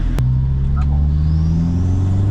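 A Toyota Vigo pickup engine at a tuning shop revs up from idle in a loud close drone, rising steadily in pitch over about two seconds, with a faint voice under it.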